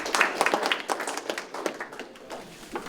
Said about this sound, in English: can we at least give them an applause for thank you?